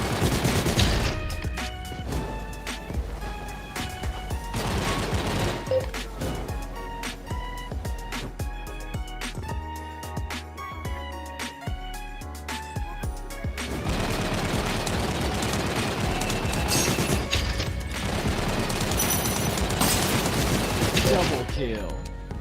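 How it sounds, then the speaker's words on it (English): Rapid bursts of automatic gunfire and scattered shots in a multiplayer video game shootout, nearly continuous and dense, with a heavier stretch of firing toward the end. "Same team, eh? That's why you're shooting me."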